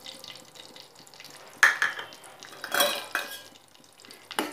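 Mustard seeds, cumin and curry leaves dropped into hot oil in a kadai, giving soft crackling and sizzling with a few sharp metal spoon scrapes and stirring clatters.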